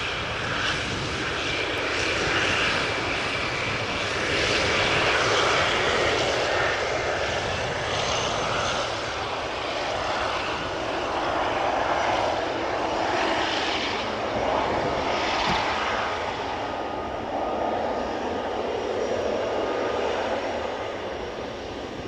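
A KLM airliner arriving from Willemstad, Curaçao roars steadily overhead at Amsterdam Schiphol, its loud jet engine drone swelling and easing over about twenty seconds with no voices.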